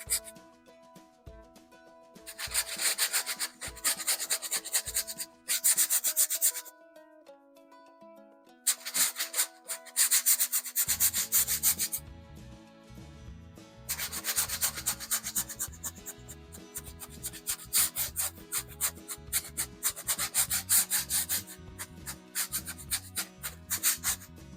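A paintbrush scrubs oil paint into canvas for a sky, giving a rough, rhythmic rubbing and rasping in repeated strokes, with a steady background hum and pauses between bursts.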